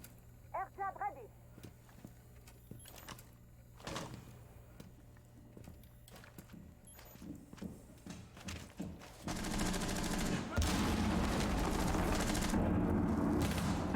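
A hatch being blown open during a Rainbow Six Siege match, a loud sustained burst of blast noise taking over the second half after scattered gunfire and footsteps, with commentary talk running underneath.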